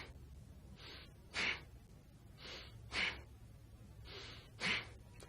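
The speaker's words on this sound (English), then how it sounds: "And exhale forcefully, contracting the abdominal muscles." Forceful yogic exhalations through the nostrils, three sharp puffs spaced about one and a half seconds apart, each preceded by a softer breath, close and clear with no talking.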